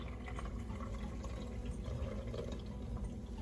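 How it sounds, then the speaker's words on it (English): Pineapple ginger drink is poured through a large strainer into a bowl, giving a steady, close, unbroken splashing trickle that fills the whole stretch with no talk. "I'm just going to pour this directly into the strainer over the bowl"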